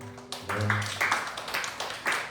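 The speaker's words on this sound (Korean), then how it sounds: "하나님께 영광의 박수 올려드립시다" A church congregation at a Sunday youth worship service applauding: a dense, continuous burst of clapping, moderately loud and close, swelling in uneven waves across the few seconds.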